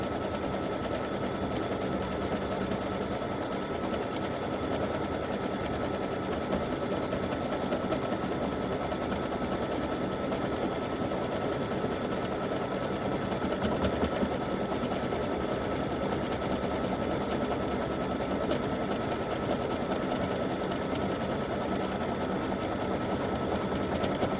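An embroidery sewing machine stitches a bow design straight onto a T-shirt, running as a steady, dense mechanical whir at close range for the whole stretch with no voices over it.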